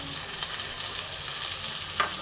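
Mixed vegetables with potato, salt and turmeric fry together in a pan over a medium flame, producing a steady, even sizzle with a small clink near the end.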